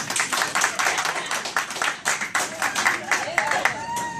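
An audience of high school students claps after a hip hop teaching demonstration, scattered and uneven hand claps mixed with crowd noise and voices.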